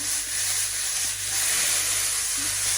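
Frozen Bulgarian bell pepper sizzles in a frying pan, a bright, steady hiss and crackle that carries on without a break, close and fairly loud, with no talk.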